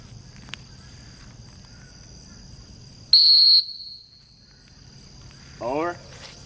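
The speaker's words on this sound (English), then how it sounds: "hit the whistle, give him a note" A single sharp, high dog-training whistle blast sounds over quiet outdoor background near water with faint insects, followed later by a brief voice.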